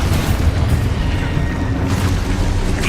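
Expulso spell explosion in the Hogwarts video game, a dense, loud, rumbling blast that fills the whole moment with sustained low boom and crackle.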